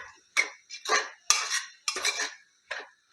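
A utensil stirs mutton curry with potatoes in a metal pot, making six distinct clanking, scraping strokes in an uneven rhythm, close and fairly loud, with no talk.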